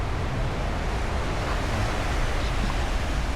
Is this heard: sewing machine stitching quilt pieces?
no